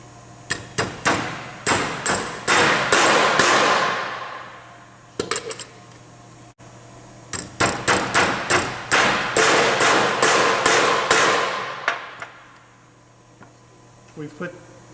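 A hammer strikes metal rivet fastener clips on a conveyor belt in rapid rhythmic bursts, sharp ringing blows in two long runs with a short pause between.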